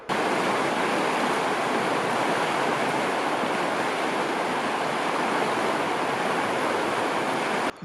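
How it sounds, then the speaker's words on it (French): A muddy river in flood roars past as a dense, steady, loud broadband rush of churning water, constant and unbroken without any voices. "Il y avait juste une rivière boueuse en crue."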